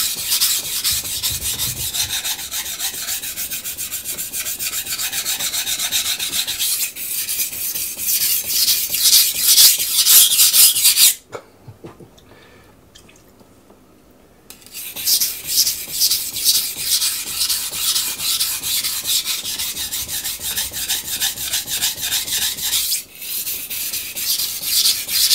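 A knife is rubbed back and forth on a Miyagoshi sharpening stone in loud, rhythmic, rasping strokes, pausing briefly in the middle before resuming steadily, with no talk.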